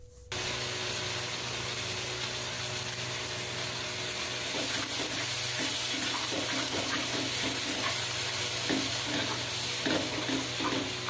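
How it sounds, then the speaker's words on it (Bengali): Ground coriander leaf paste sautés in a pan for an eggplant kalia, a dense continuous sizzle with soft scraping stirs running throughout, with no talking. "এবার ধনেপাতা বাটাটাকে আমি সম্পূর্ণ দিয়ে দিচ্ছি। দেখুন কিভাবে কষাতে হয়"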